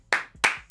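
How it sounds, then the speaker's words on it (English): Three sharp hand claps in quick succession, the first two loud and close, the last softer, given as a brief round of applause for a craft beer delivery sponsor. "Round of applause for Tavour."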